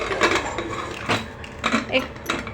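Metal pressure cooker lid clanks and scrapes as it is fitted and turned into place, several sharp clinks spread over a couple of seconds, close and fairly loud.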